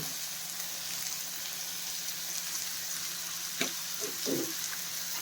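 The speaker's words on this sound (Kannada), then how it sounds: "ಸ್ವಲ್ಪ ಫ್ರೈ ಆಗಲಿ" Bitter gourd frying in a pan with turmeric and salt, giving a soft, steady sizzle with a few faint stirring clicks near the end.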